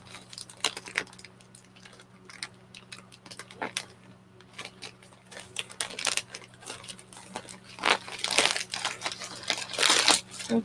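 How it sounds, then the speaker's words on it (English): A plastic mailer bag being cut open with scissors: crinkly rustling and snipping, with irregular crackles that grow louder and denser toward the end, close up and without talk. "I'm just probably gonna have to just cut this bag up"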